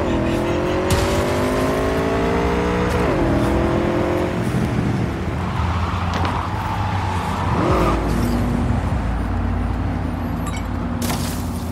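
Cars in the video game Cyberpunk 2077 drive fast with a steady engine drone and pitch sweeps as they rev and shift, broken by several short crash impacts over nearly twelve seconds.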